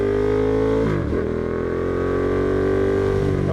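A 2015 carbon Ducati Diavel motorcycle downshifting: a loud, close engine drone whose pitch drops sharply near the one-second mark, then holds a steady, slightly lower rumble.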